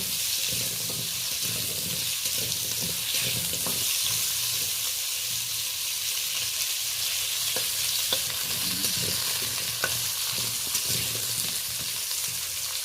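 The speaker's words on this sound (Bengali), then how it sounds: "পেঁপেটা 2-4 বার নেড়ে তারপর ডাঁটাটা তুলে দেব" Papaya pieces frying in a little oil for a Bengali shukto dal, a continuous dense sizzle under occasional spatula scrapes and light clicks, close and even throughout with no talking.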